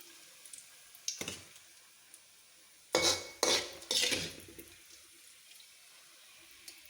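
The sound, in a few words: scooping fried green chillies and curry leaves out of pan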